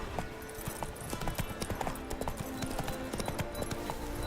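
Hoofbeats of the horse Roach galloping in The Witcher 3 video game, a fast, steady clip-clop rhythm heard faintly beneath game sounds and low background voices.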